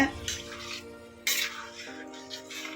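Water pours steadily into a pot of idli batter, splashing and gurgling with a brief louder gush partway through, close by and continuous.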